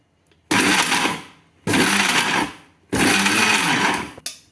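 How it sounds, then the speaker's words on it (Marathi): A kitchen grinder runs in three short pulse bursts, each a loud, close whirring roar with abrupt starts and stops, chopping roasted curry leaves and lentils, with brief silent gaps and a last quick blip at the end. "आता आपण हे सगळं पल्स मोडवर बारीक करणार आहोत"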